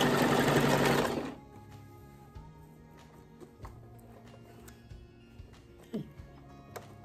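A sewing machine runs loud and fast in a short burst while zigzag stitching hair wefts for wig extensions, then stops, leaving quiet handling clicks and soft room noise.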